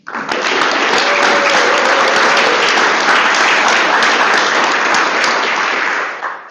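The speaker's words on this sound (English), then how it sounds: "So please give yourselves a round of applause for caring about Philomath and its future" Audience applause at a city council swearing-in ceremony, a loud sustained wash of clapping that starts abruptly and holds steady before tapering at the end.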